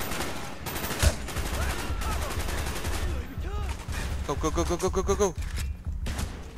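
Rapid gunfire in Call of Duty Black Ops, dense bursts of shots close and loud across the first few seconds, then game sound effects and more firing, with a player's voice briefly heard.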